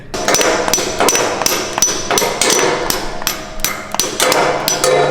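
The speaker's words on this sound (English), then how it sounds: "now we're going to take our wedge anchors here and hammer these boogers in." Loud, steady hammer blows ring out in quick succession, metal wedge anchors being driven into concrete for a garage crane, close up and continuous.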